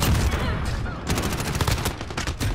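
Rapid bursts of video game gunfire crackle close and loud, nearly continuous with sharp repeated shots and no pauses.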